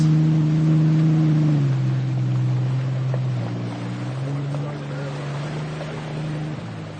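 A black Yamaha Super Jet stand-up jet ski with stock graphics races on Lake Lavon, Texas: a steady droning engine whine that shifts pitch, heard from nearby under wind and water noise.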